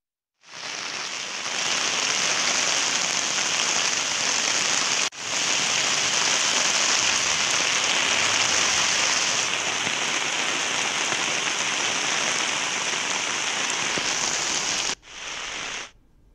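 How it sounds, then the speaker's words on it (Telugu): Heavy, steady rain pours down across a district in Tamil Nadu, a dense continuous hiss of drops on surfaces that stays loud and unbroken apart from a brief dip near five seconds and a short gap before it ends, with no voices. "తమిళనాడు జిల్లాలో ఎడతెరిపిలేని వర్షాలు కురుస్తున్నాయి"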